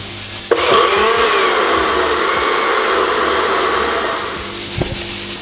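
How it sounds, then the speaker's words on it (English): A blender whirs steadily for several seconds at close range, blending flakes with a little water, a loud continuous grinding roar with a few clicks at the start and end. "So back with the flakes in the blender"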